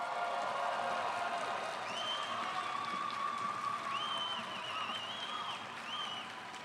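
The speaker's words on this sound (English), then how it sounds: "Let's hear a round of applause." At a graduate school spring hooding ceremony, an audience applauds doctoral graduates with sustained, even clapping that slowly eases off toward the end, while whistles and faint cheering rise over the crowd.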